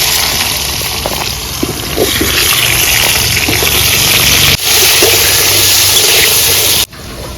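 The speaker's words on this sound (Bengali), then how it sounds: "আলুগুলো আমি তেলে দিয়ে দিচ্ছি।" Potatoes drop into hot oil and fry with a steady, loud hissing sizzle that runs continuously, briefly dipping twice as if the pan is moved.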